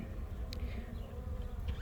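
Honeybees buzz over capped brood in an opened hive, a low, steady hum running throughout, close by, with no talk.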